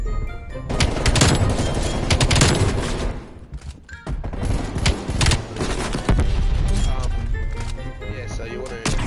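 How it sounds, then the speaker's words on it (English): Artillery and gunfire in a gun-fight video game, with dense bursts of booms and rapid shots running nearly continuously at high loudness, a short lull around the middle, and game voices mixed in. "Artillery inbound."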